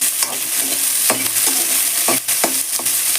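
A large chopped onion fries in oil in a pan for a gongura chutney, giving a steady loud sizzle broken by several sharp stirring scrapes and clatters spaced irregularly through the clip, with no voices.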